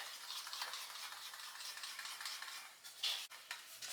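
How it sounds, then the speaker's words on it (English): Small whisk mixing hair dye into white conditioner in a bowl, a quick, quiet, continuous swishing close up, with a faint click near the end. "with the conditioner, I just use a little whisk"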